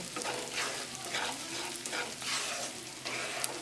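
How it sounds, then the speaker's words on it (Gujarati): Edible gum frying in ghee with flour for gundar sukhdi, a Kathiyawadi sweet, giving a steady close sizzle with scattered small pops and crackles throughout, no voices. "આ રીતે તેલમાં ઘીમાં ફૂટી જશે"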